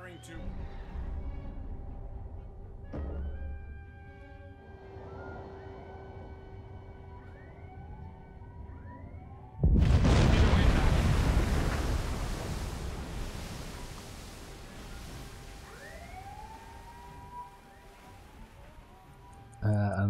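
A torpedo launched from tube one of a submarine in Silent Hunter 4: Wolves of the Pacific, a sudden loud rushing whoosh that fades slowly after a quiet stretch of tonal sonar-like pings and rising sweeps.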